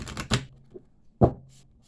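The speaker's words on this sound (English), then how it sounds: "Let me give these a real shuffle." Tarot cards are shuffled close by in two quick riffling bursts separated by a brief pause, each a crisp papery flutter.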